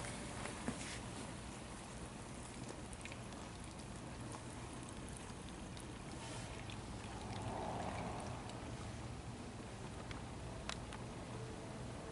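Used cooking oil trickles and flows down a tube into a bag, a faint, steady pouring hiss that runs on without pause.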